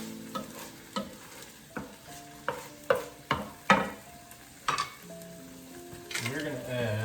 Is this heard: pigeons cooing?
no